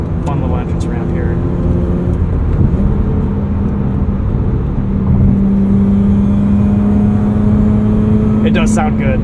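A 2009 Mazda RX-8 rotary engine and exhaust pull hard while accelerating up an entrance ramp, a smooth, steady rising drone heard from inside the cabin, with occasional brief voices over it.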